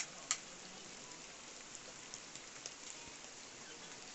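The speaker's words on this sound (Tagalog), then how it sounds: "Ang lakas na ng ulan." Heavy rain pours steadily at Binungbong Eco Park, a dense even hiss of falling water with a few sharper drops close by, continuous and alone with no talk.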